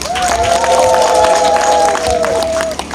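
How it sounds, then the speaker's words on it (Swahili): A campaign rally crowd breaks into sustained applause and cheering, a dense wash of clapping from many hands with a long whistle or shout riding over it. "Naomba mpigie makofi"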